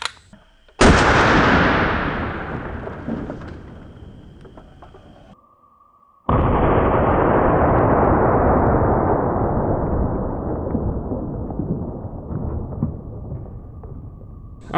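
An AK-47 fires 7.62x39 rounds into a container of oobleck, two loud sharp shots each followed by a long ringing, decaying report outdoors.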